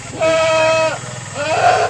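A goat bleats twice up close, a sustained wavering cry followed after a short pause by a second shorter one.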